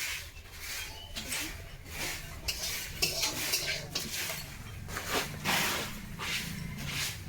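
A spatula scrapes and stirs leafy greens frying in a metal kadai, with rhythmic rubbing and clinking strokes over a soft sizzle, close and moderately loud.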